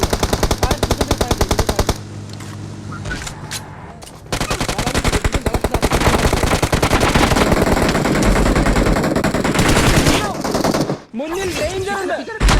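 Loud automatic gunfire in BGMI (Battlegrounds Mobile India) on the Erangel map, long rapid bursts with brief pauses, close and dense, with players' voices talking over it.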